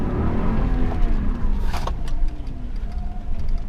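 2017 Toyota Land Cruiser V8 at full throttle in four-wheel low on an off-road sandy track, a loud, steady engine roar with rumbling low end and brief rattles, close by.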